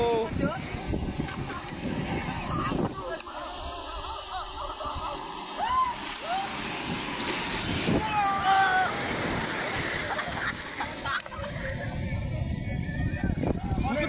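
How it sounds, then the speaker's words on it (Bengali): Big ocean waves crash and splash continuously at Somnath beach in Gujarat, a loud, close, unbroken roar of surf with sharper spray bursts, while people talk excitedly over it. "বড় ঢেউ আসছে"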